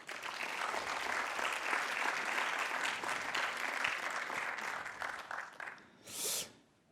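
An audience applauds the presenters with sustained, fairly distant clapping that thins out toward the end, followed by a brief breathy noise.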